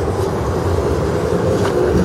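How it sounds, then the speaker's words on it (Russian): A tram rolls along Menzhinskogo Street in Moscow near Babushkinskaya metro with a loud, steady rumbling roar of wheels and motor, close by and continuous with no voices. "Вот трамваи люблю снимать и поезда, ну, поэтому вот и заснял."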